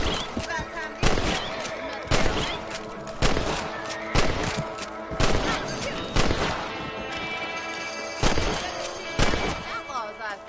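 Rifle shots fired at rabbits in Red Dead Redemption 2, a series of loud sharp cracks at roughly one-second intervals with some echo, alongside game ambience.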